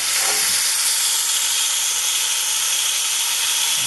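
Top round steak frying in butter in a pan, a loud, steady broadband sizzle that holds evenly with no talking.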